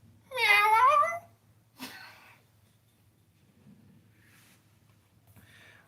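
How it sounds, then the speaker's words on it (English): A cat lets out one clear, close meow with a rising and falling pitch, followed by faint rustles and soft breathing in an otherwise quiet room. "You know how a cat says hello, Kitty"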